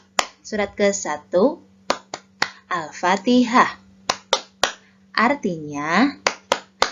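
Sharp, rhythmic hand claps punctuate a spoken Indonesian classroom chant for children, landing in bursts between phrases, with a clear close voice leading throughout.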